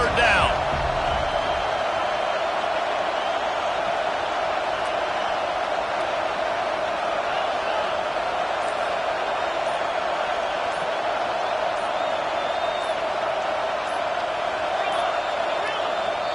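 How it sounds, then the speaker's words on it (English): A football stadium crowd roars steadily behind the home defense on third down, a dense, sustained wash of cheering that holds loud and unbroken, with no clear voices on top. "Decibels rising as the crowd gets behind this defense on third down"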